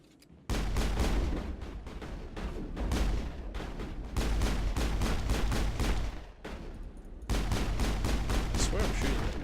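Heavy gunfire in the Mass Effect video game, continuous loud bursts of shots layered over each other with brief lulls, close and intense, faint voices mixed in.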